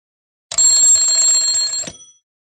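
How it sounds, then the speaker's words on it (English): An alarm clock rings loudly and continuously for about a second and a half with a bright metallic tone, then cuts off and fades into silence. "Dan's alarm clock rings, and he wakes up."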